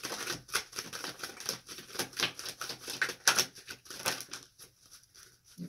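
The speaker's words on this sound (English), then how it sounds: "Two cards popping out" Tarot cards shuffled by hand in a rapid, dense run of crisp papery riffles and taps, close and moderately quiet, easing off toward the end.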